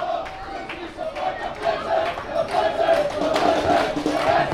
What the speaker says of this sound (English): Sends this Buffalo crowd into raptures